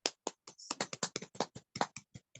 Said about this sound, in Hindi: आइए हम लोग प्रभु के दास विनी अंकल को ताली बजाते हुए स्वागत करेंगे।